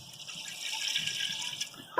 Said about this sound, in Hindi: अब इसके अंदर हम डाल देंगे 1 गिलास पानी का